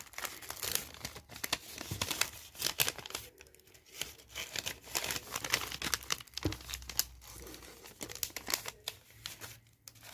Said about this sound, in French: Là, je vais les mettre dans les sachets.